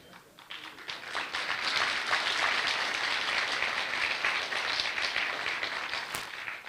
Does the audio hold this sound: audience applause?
yes